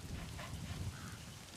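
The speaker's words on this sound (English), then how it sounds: "Hey, that rainstorm has come." Rainstorm in the video game Metal Gear Solid V: The Phantom Pain, a faint, steady wash of falling rain with a low rumble underneath, distant and even throughout.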